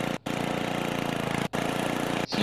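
Tractor engine in the Happy Wheels video game, a steady mid-pitched running drone with a buzzy, mower-like rattle, briefly cutting out twice.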